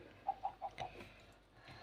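A few quick, quiet clucks from a Minecraft chicken in an even run, faint and somewhat distant, then near silence.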